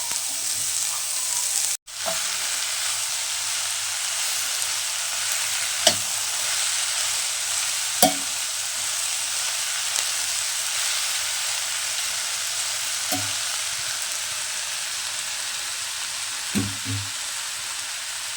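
Lemon curry being stirred and fried in a pan in a rustic village kitchen, a steady sizzle broken by a few sharp scrapes and knocks of the spoon against the pan, with no talking.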